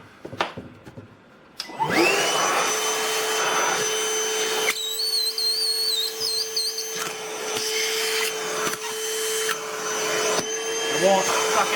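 Milwaukee Gen 2 wet/dry shop vacuum running with a steady loud whine, a wood chip rattling and clogging the hose amid scrapes and knocks, with brief clicks before the motor starts.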